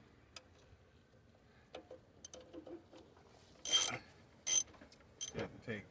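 A ratchet wrench works on the alternator of a 2002 Dodge Ram with a 5.9L engine, giving quick bursts of sharp ratcheting clicks in the second half after quieter handling noises.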